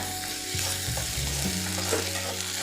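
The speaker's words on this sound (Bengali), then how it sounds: "পেঁয়াজটাকে হালকা সফট হওয়া পর্যন্ত একটু ভেজে নিতে হবে" Onion frying in oil with ginger and garlic paste, a steady close sizzle with light stirring scrapes throughout, for a pumpkin dish.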